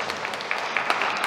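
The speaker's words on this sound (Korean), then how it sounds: "우리 박수 한번 하겠습니다" A Korean church congregation at Sunday worship claps for a member back from Namibia, giving a brief run of soft, steady clapping from a roomful of people with a few sharper claps standing out.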